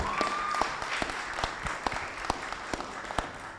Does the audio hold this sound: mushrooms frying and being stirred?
no